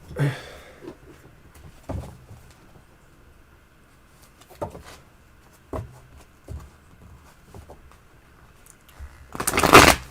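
Sparse taps and soft tarot card handling, ending in a loud, close riffle shuffle in the last second; no talking.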